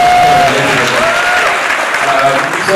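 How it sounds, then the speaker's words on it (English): An audience at a bitcoin mining presentation in South Africa breaks into loud, dense clapping that carries through the whole moment, close and steady, with a voice and faint tones heard over it. "can we clap for the ladies in the room?"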